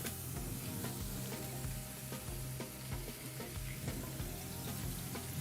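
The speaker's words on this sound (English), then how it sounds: "we're gonna saute these down" Food sautéing in olive oil in a home kitchen pan, a steady close sizzle and crackle with occasional stirring scrapes, no voices.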